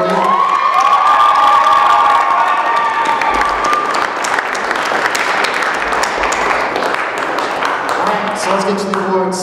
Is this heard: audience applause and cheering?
yes